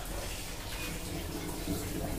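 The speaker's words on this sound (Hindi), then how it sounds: "पानी हमारी कितनी रफ्तार से आने लगा पहले हमारा स्लो आ रहा था पानी अब एकदम रफ्तार से आने लगा" Water rushing into a washing machine drum, a steady broadband gush that holds at one level throughout, with no talk over it.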